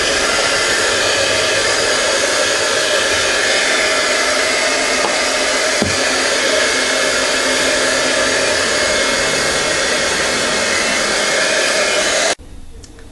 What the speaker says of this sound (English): Now I'm going to use my heat tool and dry it off a little bit